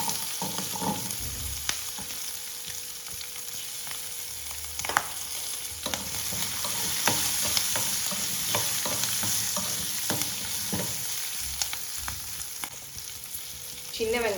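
Shallots, green chillies and curry leaves fry in hot oil alongside browned urad dal, giving a steady close sizzle broken by occasional stirring knocks and scrapes, with no voices.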